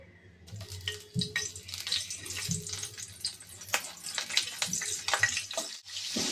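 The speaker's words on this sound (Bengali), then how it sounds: "আলু আর ফুলকপিটা আমি ভেজে নেব।" Potatoes and cauliflower frying in oil in a pan, an uneven sizzling hiss with crackles and a few soft knocks, fairly close and without talk.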